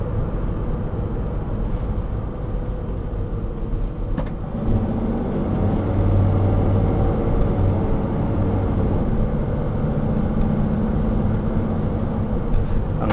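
A 2002 Sprinter diesel high-top van, ex-FedEx, driving on the road with a steady low engine drone and road rumble heard from inside, swelling slightly as it pulls through the gears.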